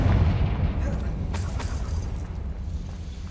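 A Confringo fire-spell blast in the Hogwarts Legacy video game, a loud low rumbling boom that fills the short moment with a deep sustained roar and a couple of crackling bursts.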